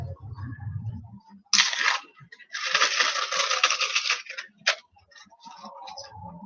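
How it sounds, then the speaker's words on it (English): A plastic lunch sandwich bag crinkles and rustles in bursts as it is handled close up, sharp crackling flurries separated by quiet pauses, with a faint low voice at the start. "This is a lunch sandwich bag."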